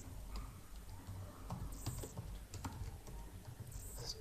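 Faint, quiet clatter of a computer keyboard as Python code is typed, with irregular keystrokes in a steady run and no talking.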